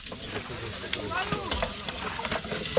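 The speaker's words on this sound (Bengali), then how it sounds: "আলু কষা চলছে, আলু ভাজছে।" Potatoes fry in a pan at an outdoor car camp near a dam, crackling and sizzling up close while people chat and call out in the background.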